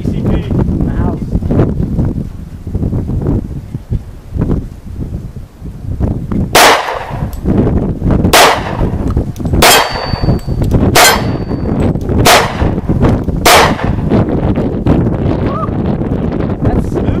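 Six sharp, loud pistol shots from a Springfield V10 Ultra Compact 1911 in .45 ACP fire at an outdoor range, spaced at roughly even intervals, with wind buffeting the microphone and a voice talking between the shots.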